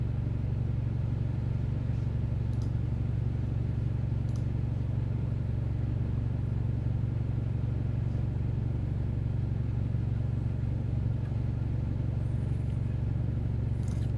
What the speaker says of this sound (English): Nissan or a Toyota engine.